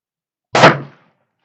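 A single rifle shot from a CZ 600 Range chambered in 6mm Creedmoor fired without a muzzle brake: one sharp, loud crack that decays quickly into silence.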